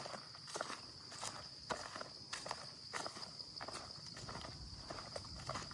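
Footsteps crunching along a forest floor while searching for red ant nests, a steady series of close, distinct steps over faint insect-like background hiss.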